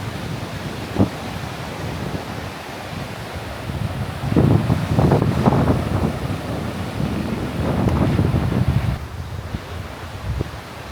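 Wind buffets the microphone over a steady wash of surf on a quiet beach near Chumphon, Thailand, with louder gusts swelling through the middle and near the end and no talking.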